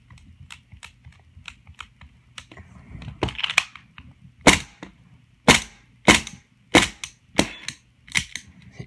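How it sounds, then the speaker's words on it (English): A KJW M9A1 airsoft pistol running on gas fires BBs, first with a series of soft, faint taps and then with about six sharp, loud, evenly spaced snapping shots, close by with no talking. "yeah, it's a little more silent with the suppressor on."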